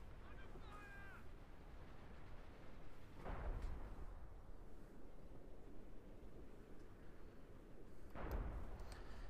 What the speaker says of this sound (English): his mortar emplacement either, which is continuing to suffer under fire there from the German artillery